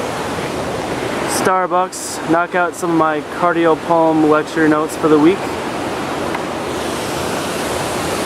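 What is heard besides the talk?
small waterfall in Milford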